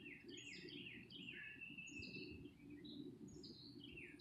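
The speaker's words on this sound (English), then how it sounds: "Can you hear all the birds?" Several birds chirp and trill in short overlapping phrases in a pine forest in the Lost Pines of Central Texas, against a steady low rumble of background noise, moderately distant.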